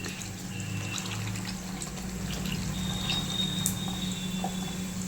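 A steady stream of strained tamarind water poured into a cooking pan, a continuous even rush of liquid with no one speaking.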